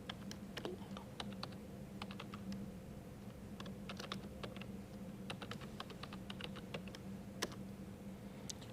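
Code being typed on a computer keyboard while setting up a machine learning environment, rapid irregular clicks of keys close up, steady and fairly quiet, with no talking.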